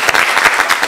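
Studio audience applause bursts out briefly, a dense, loud wash of many hands clapping for under a second.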